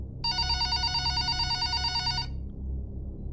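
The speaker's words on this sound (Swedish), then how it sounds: "Då ringer telefonen." A telephone rings inside a cottage: one loud, rapidly trilling burst of about two seconds, then it stops, leaving a low background rumble with no talking.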